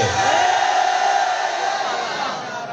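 Large crowd at a political rally roaring a slogan in unison, a loud sustained mass of voices that stays steady and fades slightly toward the end.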